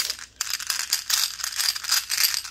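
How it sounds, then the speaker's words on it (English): Glass marbles tumble down a metal music stand and land in a pan, giving a steady stream of bright rattling clicks and clatters for a couple of seconds, close and fairly loud with a brief pause near the start. "I will be dropping different kinds of marbles."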